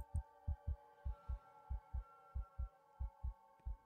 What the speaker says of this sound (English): so I'm guessing the heartbeat goes faster when the killer is closer